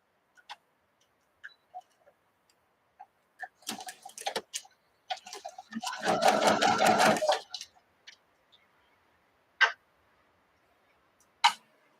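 A sewing machine runs in one short burst of rapid stitching of about a second and a half, surrounded by scattered ticks and clicks in an otherwise quiet room.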